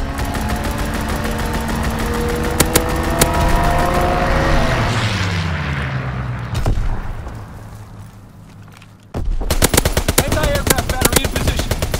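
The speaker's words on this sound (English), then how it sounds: "Strafing run inbound." An aircraft strafing run in Call of Duty WWII roars with continuous rapid gunfire and engine drone that fades out, then a fresh burst of loud shooting erupts near the end, with a voice speaking briefly.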